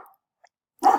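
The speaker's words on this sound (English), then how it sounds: "sorry about my dog" A single dog barks once, close and loud, in a short burst at the end after near silence.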